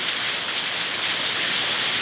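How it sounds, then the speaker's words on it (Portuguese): Heavy rain pours down in a steady, dense hiss that holds at the same level throughout, with no voices. "quero mostrar para você, ó, como chove, tá vendo? Chove muito."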